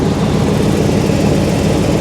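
A Chevy 1500 truck's 5.7 V8 engine with a slight exhaust leak idles loudly and close by, a low, rough, pulsing rumble with a steady chuffing rhythm.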